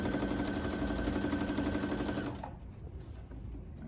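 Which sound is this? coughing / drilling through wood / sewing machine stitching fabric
sewing machine stitching fabric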